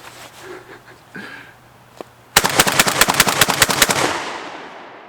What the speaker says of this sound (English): So there went 8 rounds of 12 gauge, rather hard.